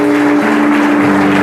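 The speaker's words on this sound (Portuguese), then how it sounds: "Aplauda Jesus mais uma vez." Church congregation applauding at a service, a dense continuous wash of clapping at steady loudness with a sustained tone running underneath throughout.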